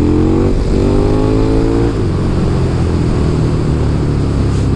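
A 2021 KTM Super Duke 1290 R motorcycle accelerates in third gear, its engine rising in pitch over the first two seconds, then settling into a steady loud drone with wind rush, heard close up from the rider's position.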